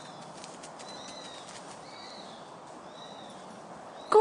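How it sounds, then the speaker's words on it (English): Soft bird calls and cooing over a steady outdoor hiss, with a sudden burst of flapping wings at the end. "What are those birds?"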